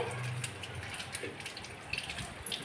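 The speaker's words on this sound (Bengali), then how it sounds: "প্রথমে আমি ড্রাগনটাকে ধুয়ে নেবো জলেতে" A dragon fruit grown in a rooftop garden is rinsed in water, giving a steady close wash of running and splashing water with small drips and gushes, no talking.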